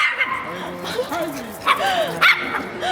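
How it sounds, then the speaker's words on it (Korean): Several dogs yip, whimper and bark close by in a busy indoor spot with many dogs, in short excited bursts while people talk over them. "강아지 천국이다"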